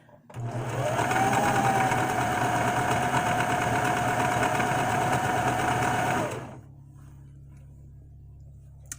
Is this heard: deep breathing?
no